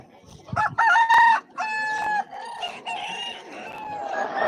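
Chickens at a cockfighting ground during a Shiva Gajan village fair: a nearby rooster crows several times in short, bright bursts, mixed with clucking and a busy outdoor background.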